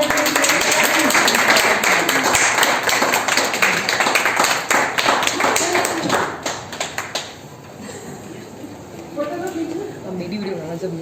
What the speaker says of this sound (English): May I have a huge round of applause for Judge.